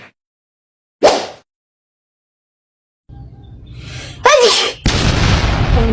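A person sneezes: a short breathy burst early on, then a louder voiced intake and a sharp explosive sneeze near the end, close and loud against silence.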